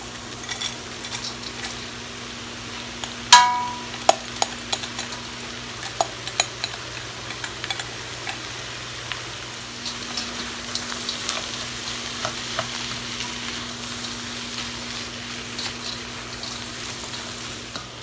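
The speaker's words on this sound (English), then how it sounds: "I'm going to add the frozen peas and meat, which will thaw very quickly in the wok" Onion, frozen peas and meat stir-fry in a wok for fried rice, giving a steady close sizzle throughout. A sharp metallic clank comes early, then scattered spatula ticks and scrapes over the continuous frying hiss, with no voices.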